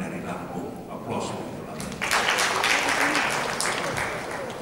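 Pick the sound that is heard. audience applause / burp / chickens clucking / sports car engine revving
audience applause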